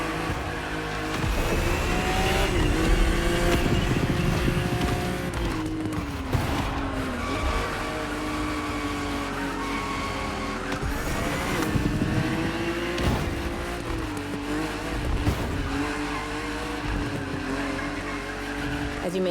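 A BMW race car in The Crew Motorfest video game drives on a racetrack, its engine droning steadily and loudly with shifting pitch and tires squealing through the turns, heard close and continuous.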